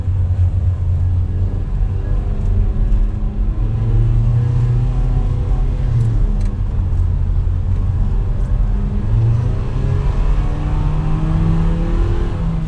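A Renault Duster with a CVT gearbox drones steadily as it climbs a hill with its windows open, the engine rumbling loud and continuous with wind and road noise inside the cabin.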